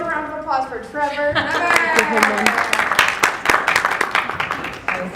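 At a panel at the EXP 2019 convention, an audience claps for Trevor. Cheering and voices come first, then a rising wave of dense clapping fills the room alongside continued voices.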